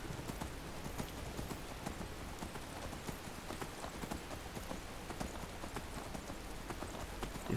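Horse hooves clip-clop steadily and continuously at close range as the horse Shadowmere is ridden in the Skyrim video game, with a rain-like wash of ambient noise and no talking.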